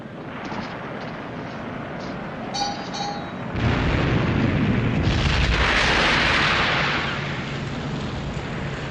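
Naval gun artillery fire in a war film about the Battle of the River Plate and the German battleship Graf Spee: a heavy, roaring blast erupts midway and rumbles on loudly, trailing into a long, swelling roar.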